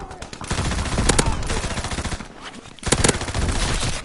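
Rapid bursts of automatic gunfire from the World War II shooter game Call of Duty WWII, loud crackling volleys in two clusters with brief gaps between them.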